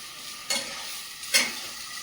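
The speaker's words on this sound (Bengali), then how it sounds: "টমেটো সব মশলা একসঙ্গে কষিয়ে নিচ্ছি।" Tomato and spices frying in a pan, with a quiet steady sizzle broken by two short scraping stirs.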